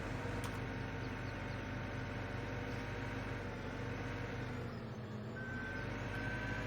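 In Farming Simulator 17, a skid steer with an LED light bar pushes snow off a street, its engine droning steadily with a mechanical whine and an intermittent reversing beep layered over the low rumble.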